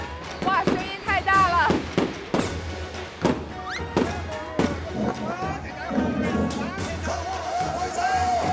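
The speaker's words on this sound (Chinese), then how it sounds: "放鞭炮了，放鞭炮了。" Firecrackers going off at a Miao wedding, a string of sharp, loud bangs cracking at irregular intervals amid a noisy crowd, with people talking and exclaiming throughout.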